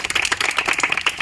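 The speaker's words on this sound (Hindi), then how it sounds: "इसके लिए जोरदार ताली।" An audience gives loud, brief applause for a student at a gathering about army recruitment exams, a dense patter of hand claps lasting about a second with no talk over it.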